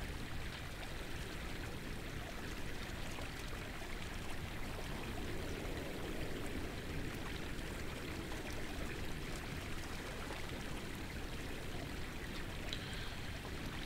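Steady rushing water from a waterfall bath pouring into an open-air hot spring in the video game Conan Exiles, a constant, even flow with no break throughout.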